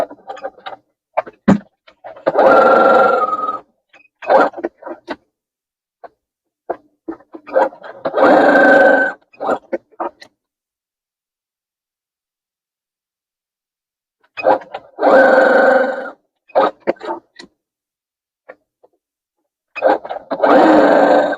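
Sewing machine stitching dog bandanas with black thread on a small table, running in several separate bursts of a few seconds each with quiet gaps between them, close and fairly loud.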